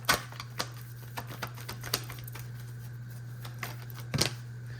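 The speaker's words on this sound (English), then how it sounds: "Let me shuffle this." Cards shuffled in a series of sharp riffling clicks and taps, irregular and close, over a steady low electrical hum.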